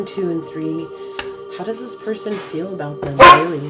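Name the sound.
dogs barking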